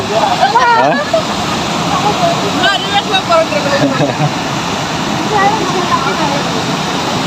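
Steady roar of rushing water from Pykara Falls near Ooty, loud and continuous, with people talking over it.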